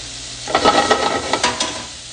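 Vegetables for fajitas sizzle in a hot pan while being stirred, a steady frying hiss broken by several scraping, clattering stirs near the mic.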